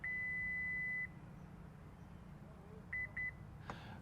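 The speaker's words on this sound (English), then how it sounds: "I'm going to hold this button down and listen for the beeps" A long electronic beep followed by two short beeps from a 2023 Acura MDX A-Spec liftgate height reset, clear and close, with faint background hum between them.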